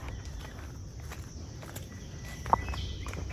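Footsteps walk through a forest, soft and fairly quiet, with one sharper snap or crunch near the end over a faint background of insects and no talking.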